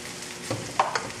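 Bay leaves, vegetables and andouille sausage being stirred in a gumbo pot over a soft sizzle, with a few quick scraping strokes of the spoon, close and fairly quiet.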